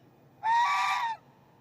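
A Chinese goose gander gives a single loud, close honk lasting under a second, nasal and brassy, rising abruptly out of near silence and cutting off cleanly.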